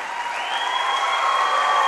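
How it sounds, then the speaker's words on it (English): Audience applause for the teams at a high school boys volleyball final in a gym, a steady wash of clapping and crowd noise that swells slightly over two seconds. "how about one more round of applause for both these teams?"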